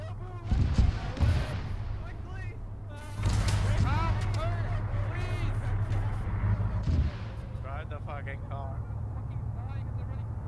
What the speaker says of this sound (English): Look at the fucking explosion.